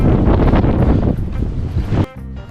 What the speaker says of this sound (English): If you want an idea of how windy it is, there's your answer.